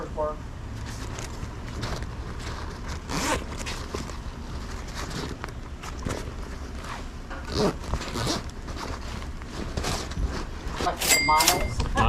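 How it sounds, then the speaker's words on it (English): Zippers on duffel bags at a garage sale being pulled open and shut several times, short rasping zips close by, with people talking over them. "All the zippers work."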